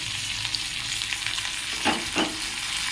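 Tomato, green chilli and onion sizzle in a hot pan and are stirred, producing a constant close frying hiss broken by a couple of brief scraping stirs near the end, with no voices.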